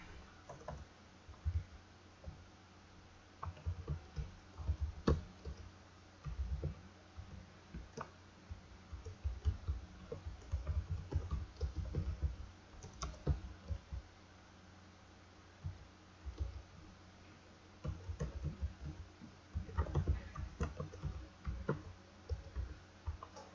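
Computer keyboard keys clicked in irregular bursts while code is typed, close and fairly quiet, with short pauses between runs of keystrokes and no talking.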